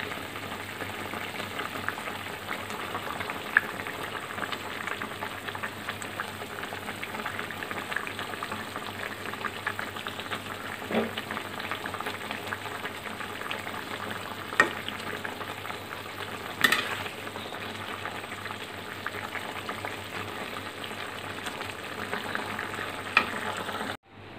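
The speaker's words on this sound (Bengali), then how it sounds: "তরকারিটা আমার প্রায় রান্না করা হয়ে গেছে, এখন এর মধ্যে অল্প পরিমাণে ডিমের বাটা দিয়ে নামিয়ে ফেলবো" A pan of curry simmers quietly, giving off a faint, steady bubbling and soft sizzle with a few occasional clinks, and no talking.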